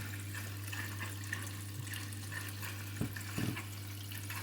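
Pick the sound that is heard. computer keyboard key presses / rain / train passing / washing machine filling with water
washing machine filling with water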